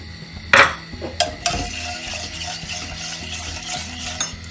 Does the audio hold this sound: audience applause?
no